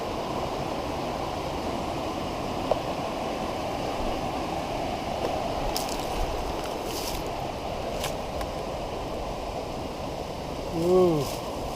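Indian Creek runs as a steady, broad wash of flowing water below a wooded trail, continuous and moderately distant, with faint footsteps and small sounds over it and a short bird chirp near the end.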